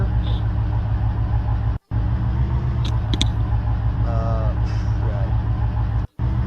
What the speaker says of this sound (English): I really like how they added a realistic car revving sound from that